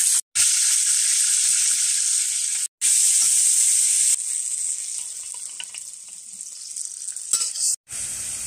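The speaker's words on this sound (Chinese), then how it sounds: "再放豇豆炒。" Cowpeas stir-fried in a wok, a loud continuous sizzle and hiss with scraping stirs, broken by a few brief silences and easing slightly in the latter half.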